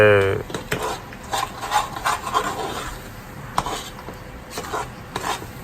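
Spices being stirred into a village-style lamb curry in a pot, a run of close scraping, rubbing strokes in an irregular rhythm with faint sizzling beneath and no speech.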